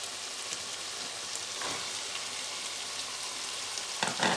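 Chickpeas frying with minced mutton masala in a pan, giving a dense, steady, fairly quiet sizzle with brief stirring scrapes near the start and at the end.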